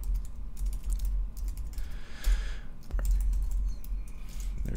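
Fingers typing on a computer keyboard nearby, a steady patter of quick key clicks with small pauses, over a low background hum and faint bird chirps.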